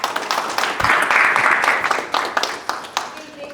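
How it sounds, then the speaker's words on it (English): Crowd applause from an audience at an academic talk on Indian Knowledge Systems, a sustained wash of many hands clapping at moderate loudness with scattered individual claps and faint murmuring. "Let's have a round of applause."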